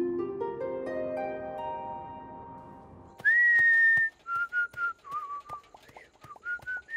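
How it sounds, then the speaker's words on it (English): A person in a cartoon whistles a tune, clear sustained notes and short melodic phrases after a soft held musical passage, close and prominent. "Hey, what you whistling?"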